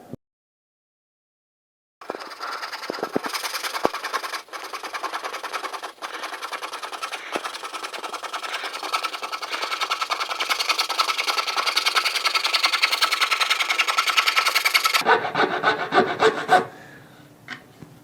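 A coping saw rasps steadily through wood while cutting a guitar headstock by hand, continuous back-and-forth strokes, close and fairly loud, then stops with a brief scrape at the end.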